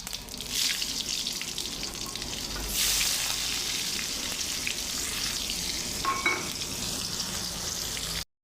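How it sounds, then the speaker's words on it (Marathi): Cumin seeds and sliced onion sizzle in hot oil for a black rice dish, a loud continuous frying hiss with bursts of stirring and a faint tap-like splash near the end. "आता याच्यामध्ये मी घालणार आहे जिरे मग मी असा एक मोठा कांदा घेतलेला आहे स्लाईस करून तो मी याच्यात घालणार आहे"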